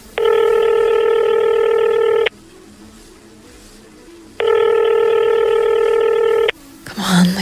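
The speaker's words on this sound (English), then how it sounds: "The gentleman handed me the phone, and I dialed Lacey's number." Touch-tone telephone number dialed in a noir audio drama: two long, loud bursts of steady dual-tone beeping separated by a quiet pause, followed by a brief faint rustle at the end.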